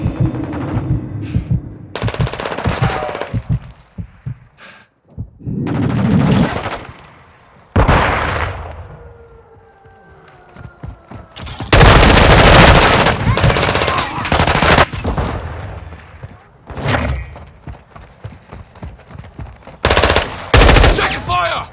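Bursts of automatic gunfire and single shots in the video game Call of Duty: Modern Warfare 2 come in loud, close clusters separated by short pauses, with game voices calling out between them.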